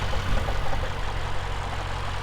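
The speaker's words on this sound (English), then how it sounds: "Very smooth idle, sounds very healthy." A 2019 Mercedes-Benz S 63 AMG bi-turbo V8 idles with a steady, low rumble, even and continuous, smooth and fairly quiet with no revving.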